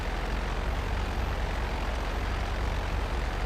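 A plane engine in GTA Online drones steadily and loudly throughout, a constant broadband roar with a low propeller throb and no talking.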